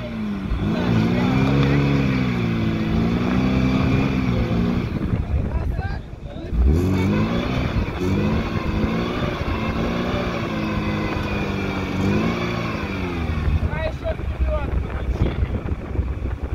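An off-road SUV engine close by, droning loudly and steadily as its pitch climbs and falls while the vehicle rocks forward and back, with wind buffeting the microphone throughout.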